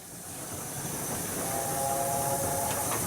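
An LNER A4 steam locomotive sounds a chime whistle, a few steady tones that begin about halfway through and last just over a second, riding on top of constant loud steam hiss.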